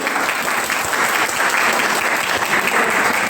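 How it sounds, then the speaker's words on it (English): Applause at a school inter-section debate contest, steady and dense from a large audience, sustained without a break as the next proposition speaker is welcomed. "Let's have a big round of applause."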